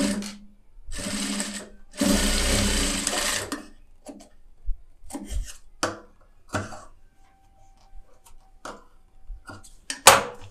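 Sewing machine running a straight stitch along a blouse seam, with loud bursts of stitching near 1 and 2–3.5 seconds and scattered clicks and handling taps between runs.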